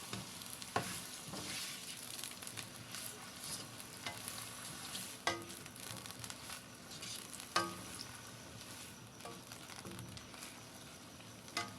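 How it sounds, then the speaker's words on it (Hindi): Eggplant frying in a pan over a medium-to-low flame for an aloo baingan sabzi, giving a steady close sizzle with occasional stirring scrapes and small pops, and no voices. "फ्लेम हमने इस टाइम रखा हुआ है मीडियम टू लो, और हम बैंगन को फ्राई करेंगे इसमें।"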